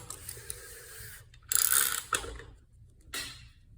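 Ford 363 small-block V8 being hand-turned during assembly on the stand, giving a few brief mechanical ratcheting clicks and scrapes in short bursts, close and fairly quiet, separated by stretches of near silence.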